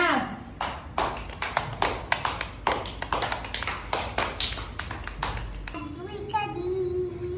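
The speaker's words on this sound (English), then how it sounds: "Claps." Children clapping in unison at an art school for young kids, a run of about fifteen sharp, evenly spaced claps after a nursery rhyme, followed by a child starting to sing.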